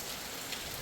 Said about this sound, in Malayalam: മഴ ആദ്യമായിട്ടാണ് ഇത്രയും നേരം മഴ നിൽക്കുന്നത്.